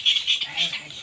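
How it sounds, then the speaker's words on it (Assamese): A bird calls in short, repeated high chirps, several in quick succession across about a second, fairly close, with faint background noise. "এইটো চৰাই মাতিছে"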